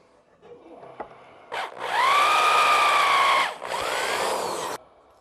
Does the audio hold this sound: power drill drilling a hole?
yes